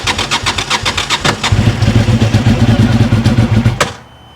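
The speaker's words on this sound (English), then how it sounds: "let's just give it a cold start" A Suzuki TL1000R motorcycle V-twin cranks in quick rhythmic pulses for about a second and a half, then fires and runs in a loud, throbbing cold-start rumble before cutting off abruptly.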